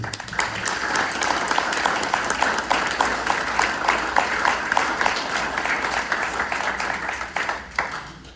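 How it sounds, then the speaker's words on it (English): An audience at a historical society meeting about the Stansbury/Schriever family home applauds to welcome a speaker, with sustained crowd clapping in which a few sharper individual claps stand out, tapering near the end. "please give applause, Mr. John Stansbury"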